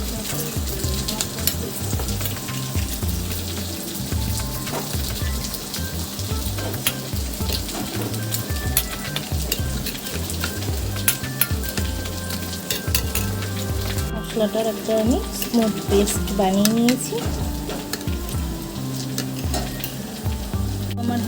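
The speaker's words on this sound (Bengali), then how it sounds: "আমার হালকা ভাজা হয়ে গেছে।" Spice paste for a fish curry sizzles and fries steadily in hot oil, with stirring and occasional clinks of a utensil against the pan, while someone talks over the cooking throughout.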